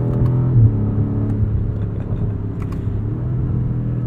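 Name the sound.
2021 BMW M5 Competition car engine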